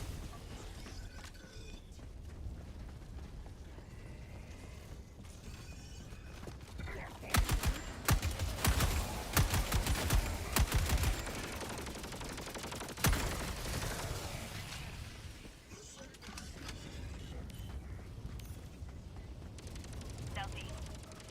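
Rapid bursts of gunfire from the Amendment primary weapon in a video game, a dense stretch of repeated shots in the middle of the clip, heard under ongoing talk with game sounds around it.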